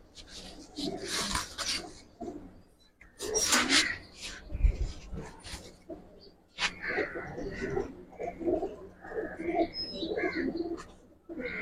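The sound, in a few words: Giribaz pigeons cooing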